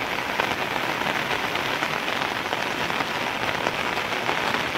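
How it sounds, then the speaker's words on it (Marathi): Heavy rain drums down steadily on a farm planted with papaya and banana trees, a dense, unbroken hiss of drops hitting leaves and ground, loud and close with no pauses. "जोराचा पाऊस आहे,"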